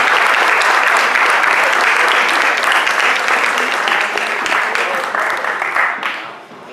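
An audience at a town hall meeting applauds, dense sustained clapping from many hands close by, slowly thinning and fading out at the end.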